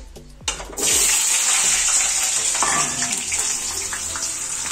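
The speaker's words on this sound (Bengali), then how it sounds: "আর এই যে আলুগুলো আমি ঢেলে দেবো" Sliced potatoes with the peel left on tip into hot oil, a quick splash followed by a loud, steady sizzle of frying that holds close and fills the rest of the clip.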